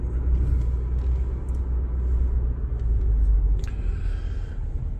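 A truck engine rumbles steadily at close range, a loud low drone that holds through the whole stretch, with a few faint clicks and rattles on top and no talking.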